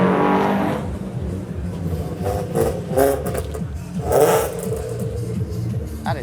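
A Nissan Skyline R32 engine revs and accelerates with a throaty, rumbling note, a couple of surges rising over steady mechanical clatter.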